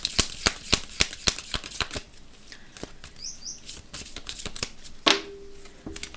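Tarot cards being cut and shuffled by hand, a quick run of crisp riffling snaps close up, then softer handling and a sharp card flick near the end.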